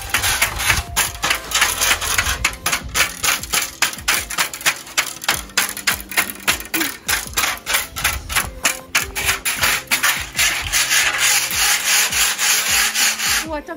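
Shavings forks scraped and bashed against concrete, giving loud, rapid, repeated clattering and scraping hits in an irregular rhythm throughout, close to the microphone.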